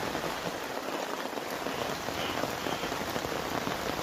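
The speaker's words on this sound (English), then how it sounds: "it's quite restful sitting under here in the rain" Rain patters steadily on a shelter roof, a dense, even hiss of drops heard close from underneath with no let-up.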